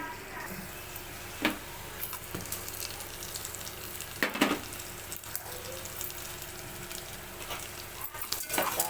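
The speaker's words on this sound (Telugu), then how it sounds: "ఉల్లిగడ్డ పచ్చిమిర్చి అయితే మగ్గనివ్వాలి" Chopped onions and green chillies fry in a pan for a ridge gourd curry, a low steady sizzle broken by a few sharp stirring scrapes and clinks, with intermittent speech over it.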